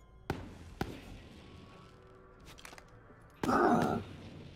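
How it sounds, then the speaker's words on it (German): A grenade explodes in Borderlands 3 as a loud, dense burst lasting about half a second, following a couple of sharp clicks and small clatters in an otherwise quiet scene. "Nur die Granate testen."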